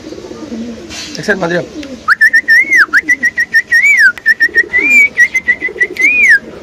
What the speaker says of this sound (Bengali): এই হইতেছে আমাদের চিলা কবুতর